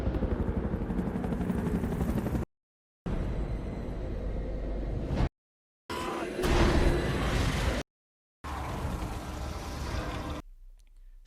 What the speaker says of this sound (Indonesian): beberapa helikopter yang sedang terbang dalam cuaca mendung